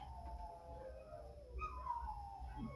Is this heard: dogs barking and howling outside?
yes